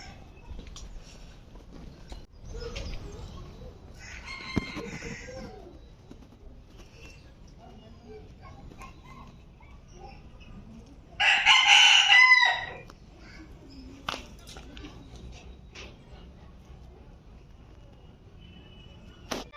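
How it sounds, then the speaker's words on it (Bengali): Chickens and other fowl call from enclosures at Nainital Zoo, with scattered clucks and coos before a loud rooster crow, and people talk quietly nearby. "ওই যে কারা ডাকছে, এখানে সব কটা মুরগি এখানেই আছে"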